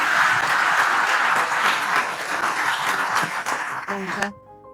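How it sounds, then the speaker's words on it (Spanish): A church congregation applauding to welcome a woman onto the stage: dense, sustained clapping for about four seconds that then drops off sharply, followed by a brief voice. "Un aplauso, pues, para esta hermana."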